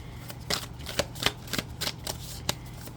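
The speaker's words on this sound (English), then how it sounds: "Just adjusting the cards." Tarot cards being shuffled and adjusted by hand, a series of crisp riffling flicks and taps at an irregular pace, close and fairly quiet.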